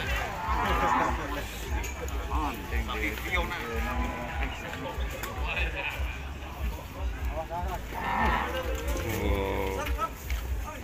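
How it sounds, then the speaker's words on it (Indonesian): Cattle at a 2020 livestock contest in Java low moo now and then amid a busy crowd, with people chatting and talking close by throughout. "ini ada sapi Fiona ya"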